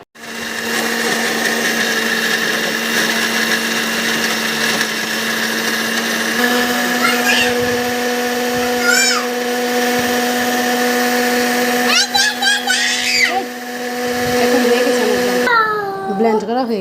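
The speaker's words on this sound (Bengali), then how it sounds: "ব্লেন্ড করে আপনাদের দেখাবো।" An electric blender whirs steadily as it purees raw green mango into juice, a loud continuous motor drone that shifts pitch partway through, with a voice breaking in briefly near the end.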